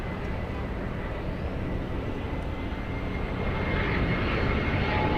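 An American Airlines Boeing 787 at Los Angeles International Airport produces a continuous, heavy engine rumble that swells slightly toward the end, with no voices over it.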